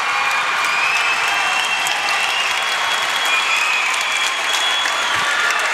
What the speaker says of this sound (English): Both crowds up and cheering.